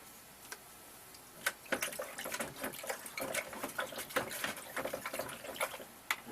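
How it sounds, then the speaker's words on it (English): A paintbrush being rinsed in a water jar while painting a white flower, with soft splashing and clinking taps of the brush against the container, repeated irregularly and fairly close, with no talk. "Rinsing off the brush."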